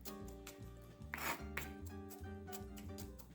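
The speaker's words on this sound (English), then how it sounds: "Just run the knife back and forth over this garlic" A knife minces garlic on a cutting board in quick, steady rhythmic taps and scrapes, heard close over a continuous tonal background.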